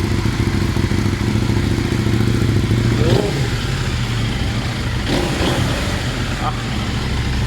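A CFMOTO motorcycle engine idles loudly close by, with a few short throttle blips and mechanical clatter over a steady rumble, and people speaking in the background.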